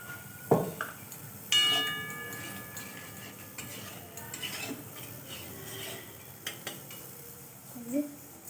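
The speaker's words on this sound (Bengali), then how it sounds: "তারপর আমি ডালটা দিয়ে দিচ্ছি" Lentils added to cooked bottle gourd in a pot, with clinking metal utensil knocks, a bright ping, and light scraping, close and intermittent over a quiet background.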